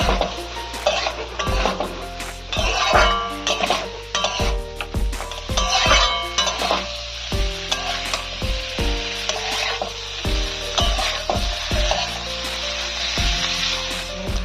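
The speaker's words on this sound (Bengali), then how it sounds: "সবকিছুকে ভালো করে মিশিয়ে নিতে হবে, আর 2-5 মিনিট হালকা করে এটাকে ভেজে নিতে হবে" Shrimp frying in a pan with broad beans for a Bengali winter dish keep up a loud, steady sizzle, broken by repeated sharp clanks of a spatula stirring against the pan.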